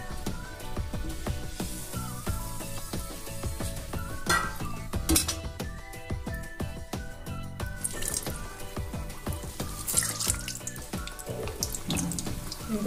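Aloo samosas fry in hot oil with a dense, continuous sizzle and bubbling, close and fairly loud throughout, with occasional clinks of a utensil against the pan.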